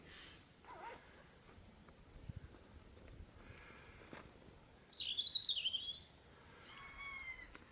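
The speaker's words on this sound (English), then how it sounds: "That's a beautiful jay." Eurasian jay in woodland giving a harsh, rasping call of about a second in the middle, with softer calls later, heard at moderate distance over quiet outdoor background.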